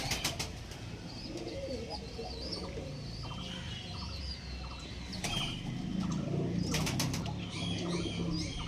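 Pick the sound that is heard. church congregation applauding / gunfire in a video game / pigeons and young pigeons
pigeons and young pigeons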